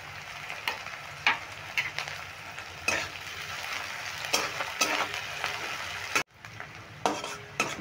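Sliced onions sprinkled with a little sugar and salt sizzle steadily in a pan for a jackfruit-seed dhoka, with a spatula scraping and stirring in irregular strokes close by.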